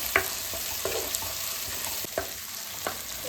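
Ground homemade masala paste frying in hot oil in a pan for fish sambar, a steady soft sizzle with a few sharp clinks of a stirring spoon against the vessel.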